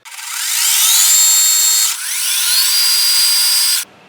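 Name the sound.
center drilling on a metal lathe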